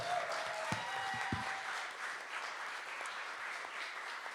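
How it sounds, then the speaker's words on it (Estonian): A session audience applauds a band, a soft, distant wash of clapping that holds evenly throughout after a few louder claps near the start. "teeme ühe suure aplausi veel meie bändile"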